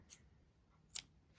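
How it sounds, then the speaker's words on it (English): Scissors snip through crochet yarn twice, a faint crisp click near the start and a slightly louder snip about a second later, in a quiet room. "So now you can cut your yarn,"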